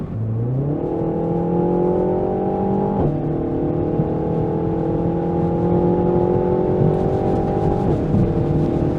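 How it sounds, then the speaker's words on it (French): Renault Mégane 4 RS Ultime engine pulling hard under full throttle through a bend, a loud, steady harmonic drone that climbs in pitch, with brief dips where the revs drop around gear shifts. "À fond sur l'accélérateur dans un virage, à l'aise."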